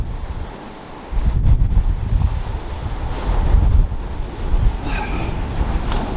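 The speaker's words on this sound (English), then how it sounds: "it's blowing a hoolie" Strong gusty wind buffets the microphone on a Southsea shore while fishing, with a steady roar and surf washing beneath it, swelling louder in bursts.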